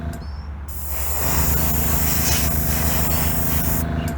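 A steady, forceful hiss of a spray gun painting a Chevrolet Silverado's wheel wells, beginning after a brief quieter moment and continuing close and loud without pause.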